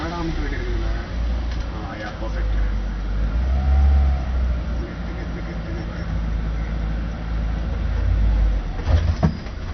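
A car engine rumbles low and builds as it pulls away in first gear, with people talking loudly over the steady drone.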